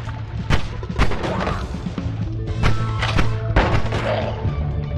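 Bomb blasts from the video game Noita: several loud, sharp booming thuds spread over a few seconds of dense game action, with a steady low background hum throughout.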